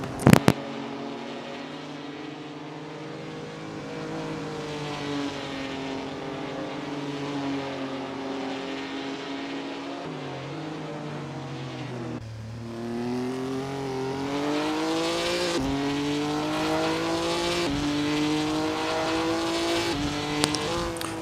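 Race cars in a racing video game howl through corners and straights, engine pitch climbing and dropping with gear changes and a brief tire squeal, continuous and fairly loud with no voices.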